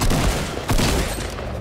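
SMG gunfire in the Fortnite video game: a short, loud burst of rapid shots lasting under two seconds, close and dense, with no talking.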